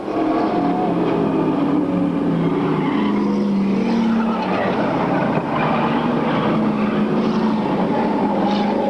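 Race cars in a sportsman semi-final at Riverlake Speedway, a dirt oval, roar together in a dense continuous engine drone with rising and falling pitches as the pack passes, broad and steady throughout.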